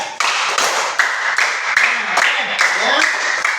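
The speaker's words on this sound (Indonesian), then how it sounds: "Tepuk tangan untuk Arkan." A classroom gives a student a short burst of clapping, with several hands tapping in quick irregular rhythm, close and fairly loud, with a few faint voices mixed in.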